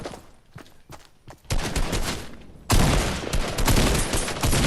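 Gunfire in the video game Fortnite, a quick run of separate shots that swells into a dense, loud, continuous barrage of rapid overlapping blasts close at hand.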